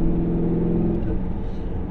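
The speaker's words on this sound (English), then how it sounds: "So I think the engineers did an awesome job with this exhaust." A Ford Mustang Boss 302 exhaust rumbling at close range, a deep, throbbing low burble with steady engine pulses that dips slightly as the revs ease off.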